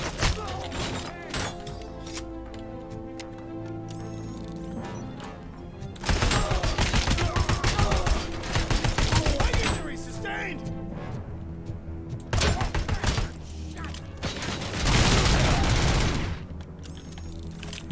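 Rapid bursts of gunfire in the Robocop video game, dense overlapping shots and impacts in loud stretches separated by quieter game noise, with a voice talking through it.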